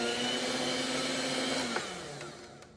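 An electric mixer whirs steadily through strawberry buttercream frosting, a continuous close motor drone that slows and fades near the end with a light scrape of a spatula.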